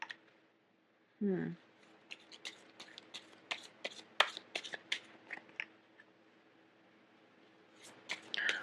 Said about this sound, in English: let me pull out the rest of the cards